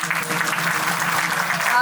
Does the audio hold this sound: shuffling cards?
no